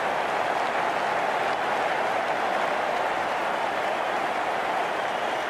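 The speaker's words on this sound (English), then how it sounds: "It's going to be hard for the bowler to focus with the crowd this excited." Excited stadium crowd cheering after a six in the cricket video game Cricket 19, a steady, dense roar of cheers and applause that holds at an even level throughout with no talk over it.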